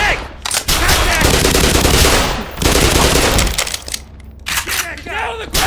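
Rapid bursts of gunfire crack across a shooting hazard course, loud, close volleys in quick succession broken by brief gaps, mixed with people shouting over the shots.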